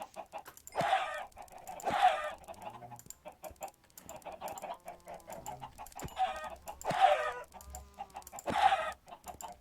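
Chickens cluck in a video game, a handful of sharp squawking bursts spaced a second or two apart over a quiet background, with no voices.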